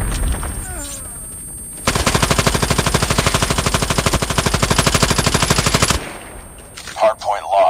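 Sustained automatic gunfire in a Call of Duty Mobile Hardpoint match, a loud rapid burst of evenly spaced shots lasting about four seconds, preceded and followed by quieter game sounds.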